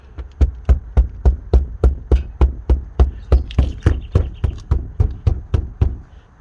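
A loose clip inside a car door panel is struck repeatedly, giving about sixteen sharp, hollow knocks at a steady, brisk rhythm, close and loud with no talking.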